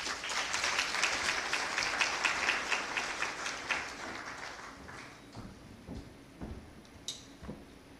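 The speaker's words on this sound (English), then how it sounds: "Another round of applause for the presenters." Audience applause at the Kenya County Budget Transparency Survey 2023 launch event, a moderate wash of clapping that thins and fades over several seconds, leaving scattered individual claps and taps at the end.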